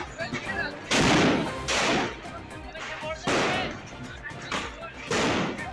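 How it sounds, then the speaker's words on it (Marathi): Firecrackers burst amid a noisy festival crowd, four loud, sharp blasts spaced about a second or more apart, each followed by crackling, over constant crowd chatter and shouting. "लोकांच्या गोंगाटात हौशी तरुणांनी फटाके फोडले"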